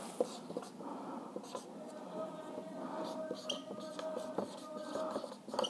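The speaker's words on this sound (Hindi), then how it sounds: "मैं लिख देता हूँ" Handwriting during a physics lesson for CBSE board exam preparation: a continuous, close scratching of pen strokes with small ticks and pauses, steady and moderately quiet for several seconds, with no voices.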